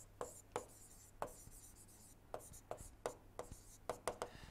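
Chalk or pen strikes a board in quick, irregular taps and short strokes during a thermodynamics lecture on SI engines, faint and close with a low steady hum behind.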